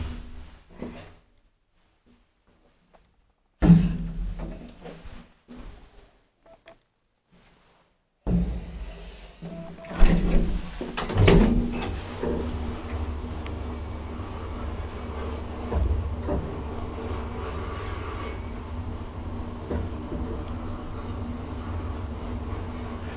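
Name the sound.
old Valmet-Schlieren traction elevator door and running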